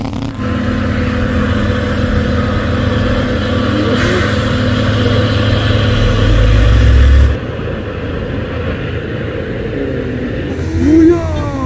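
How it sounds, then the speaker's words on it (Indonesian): Hino trailer trucks climbing a steep hill in a race, heavy engines droning loud and steady before one drops off, with people talking over the noise. "Oh, beradu Hino sesama Hino."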